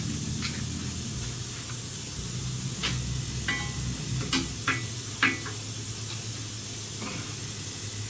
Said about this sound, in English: I just sprayed a little bit on my table here.